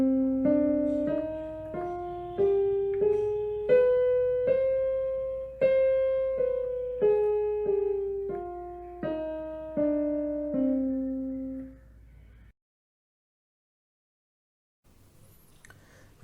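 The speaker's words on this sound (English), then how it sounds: "And the C harmonic minor would sound something like this." The C harmonic minor scale runs up and back down in evenly spaced, ringing single notes that decay after each strike, then ends in silence.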